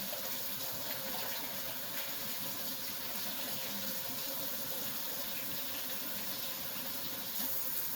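Hot water runs from a kitchen tap in a steady, soft hiss and splash, continuous and fairly quiet, with no talk over it.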